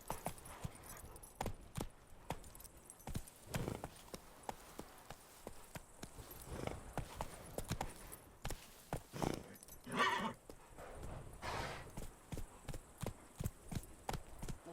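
Horse hooves trot in The Witcher 3 video game, a close, rhythmic clip-clop of steady beats with a brief neigh partway through, quiet and without talk.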